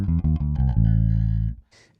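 A bass guitar runs quickly through a blues scale, several short plucked notes climbing into one long sustained tone that fades, followed by a brief soft noise.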